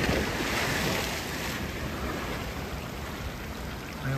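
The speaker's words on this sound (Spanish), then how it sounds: "Miren cómo está rompiendo las olas." Ocean waves break against the Guánica seawall in Puerto Rico after the remnants of Hurricane Beryl, a continuous surging wash of surf mixed with gusty wind buffeting the microphone.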